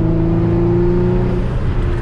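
Twin-turbo Infiniti G35 coupe engine pulling hard under acceleration while driving, a steady loud drone with strong low harmonics holding throughout, heard from inside the car.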